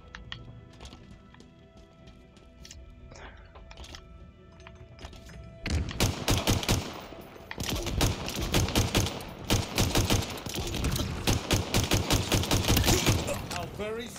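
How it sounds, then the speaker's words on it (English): Pistol shots ring out in a video game, a rapid string of sharp, loud cracks firing in quick succession after a quieter stretch of faint clicks and ambient game sounds. "It took every shot of my pistol to do that."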